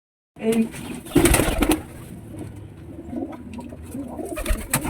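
A red Jeddah pigeon with white eyes and a crested head coos in low, rolling calls, fairly close, while a person talks over parts of it.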